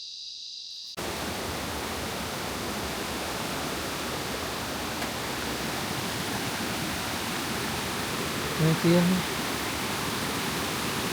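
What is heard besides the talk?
Dekal Doru Ella waterfall in Sinharaja rain forest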